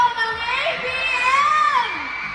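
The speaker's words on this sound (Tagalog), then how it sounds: "maaari ba naming marinig ang inyong hiyawan?" A school event crowd of young people cheering and shouting together, loud sustained whoops and yells with rising and falling voices throughout.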